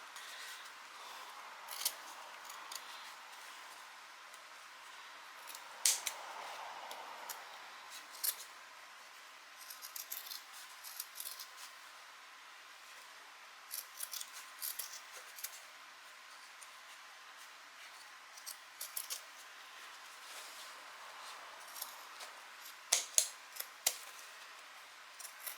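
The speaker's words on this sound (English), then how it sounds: "I'm now going to trim back this seam allowance by half." Sewing scissors trimming back a fabric seam allowance on a bag, faint sparse snips and clicks scattered over a quiet background with no talking.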